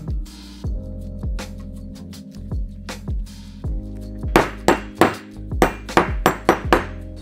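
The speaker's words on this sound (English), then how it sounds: "you just gotta either press it in or use a socket and a hammer" A hammer strikes a socket to drive a wheel bearing into the hub of a Suzuki RM250 motorcycle, giving about a dozen sharp metallic clanks with ringing tails, spaced irregularly and growing louder and quicker toward the end.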